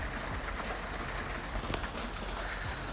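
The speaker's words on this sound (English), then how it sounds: "So we're waiting on the rain to pass." Steady rain falls outdoors during a passing shower beside a garage where a Subaru Forester is under repair, a close, even hiss with scattered drips and no one talking.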